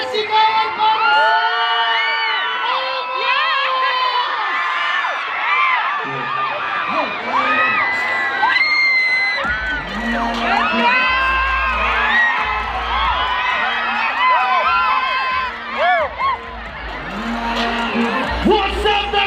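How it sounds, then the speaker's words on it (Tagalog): Concert crowd in Dagupan, Pangasinan at a show whooping, cheering and shouting loudly, with high excited yells layered over a sustained roar and low rumbling beneath. "Isang malakas na nahiyawan at sigawan para sa"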